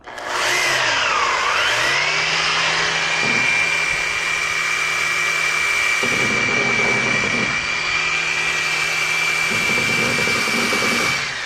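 Rotary buffer spinning at low speed with compound on a boat's plastic surface under the cleats, a loud steady whine with a sweeping pitch dip early on and slight shifts in load as it works.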